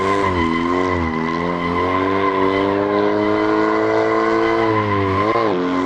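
Tire squeal from an Abarth 595 SS, tuned to double its stock horsepower, drifting in the Assetto Corsa racing game, a loud continuous screech with steady engine tones that rise and fall through the slide, with no talk.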